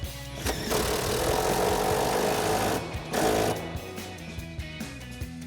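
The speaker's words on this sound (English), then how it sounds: "we'll grab our 19 mil socket on our impact and tighten this down" An impact wrench with a 19 mm socket runs down the nut on a Five8 Industries SS Sport coil-over on a 2005-2014 Mustang, giving a loud rattling hammer for about two and a half seconds, a short pause, then a second brief burst.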